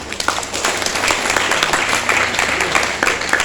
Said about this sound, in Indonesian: terima kasih kepada saudara Nevi Julius, tepuk tangan dulu.